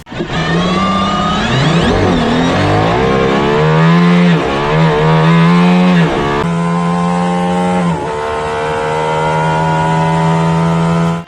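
An Aston Martin Valkyrie in Need for Speed No Limits, its high-revving engine screaming loud and close, climbing and dropping through several pitch sweeps before settling into a steady, sustained high wail.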